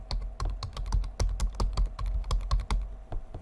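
Rapid typing on a computer keyboard, with a steady patter of close, crisp key clicks and thumps that runs without a break.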